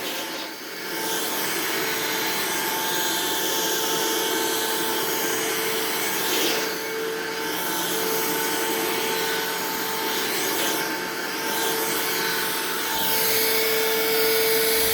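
A Hoover React whole-home cordless vacuum cleaner runs with a steady whirring motor tone and shifting suction noise as it is pushed over a floor picking up dog hair, close and continuous without speech.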